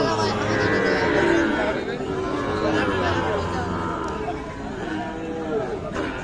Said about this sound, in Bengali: দেখছেন এগুলো সবগুলো কিন্তু শাহিওয়াল জাতের বাছুর